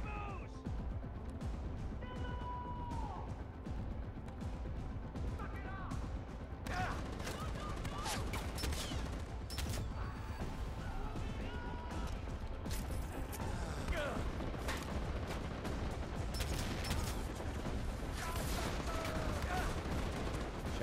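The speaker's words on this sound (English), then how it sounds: "Shots fired." Gunfire in the video game Far Cry, sharp scattered shots and crashes over a steady loud bed of game noise and mechanical clatter, with a voice talking at times.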